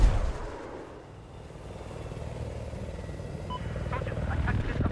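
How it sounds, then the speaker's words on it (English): An attack jet roars overhead in Battlefield 4, a heavy low rumble that swells back up after a brief dip, mixed with distant battle noise and scattered gunfire, while players talk over it. "Attack jet above us too."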